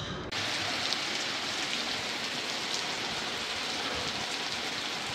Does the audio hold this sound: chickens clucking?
no